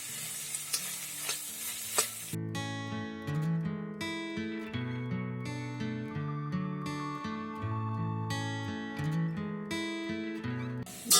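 Carrots, capsicum and cauliflower cooking in a little oil for pav bhaji, with soft sizzling and stirring scrapes that continue under prominent background music.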